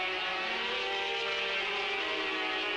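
Racing sidecar motorcycles stream past at the 1991 FIM Sidecar World Championship at Le Mans, a loud, sustained high-pitched engine whine with layered harmonics from several machines at speed, close and continuous.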